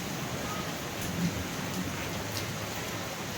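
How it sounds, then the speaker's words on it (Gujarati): Steady rain falls in a soft, even hiss at a distance, fairly faint and uninterrupted, with no voices. "વરસાદ ચાલુ થઈ ગયો છે અરે શું મસ્ત વરસાદ પડી"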